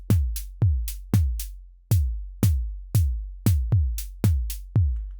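Sequenced drum pattern with the snare moved to the and of two and four, steady booming kicks with crisp snare hits between them, looping alone without any voices.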